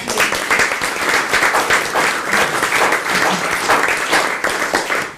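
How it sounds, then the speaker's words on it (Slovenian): An audience at a talk featuring women managers from Pomurje claps loudly and steadily, a dense sustained wash of many hands with no voices over it. "En aplavz za jih."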